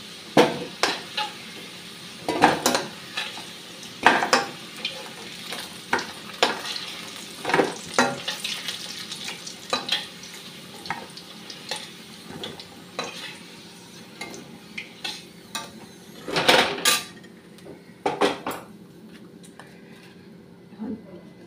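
Potatoes fried deep red in oil sizzle steadily in a pan for a chicken curry, with repeated sharp scrapes and clinks of a spatula as the pieces are stirred and lifted out.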